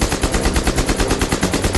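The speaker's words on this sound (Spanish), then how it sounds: "el arma podía cambiar de disparo simple a fuego rápido con solo mover una palanca." MP-44 assault rifle on fully automatic, a rapid, steady rattle of shots at an even rhythm, loud and close, with no talking.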